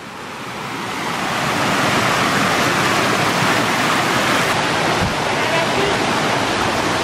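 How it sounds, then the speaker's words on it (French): A waterfall in the Bulgarian countryside roars as a loud, dense wash of rushing water, swelling up over the first seconds and then holding steady and close, with no voices over it. "Ah, la cascade, elle arrive."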